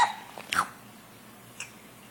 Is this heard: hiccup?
yes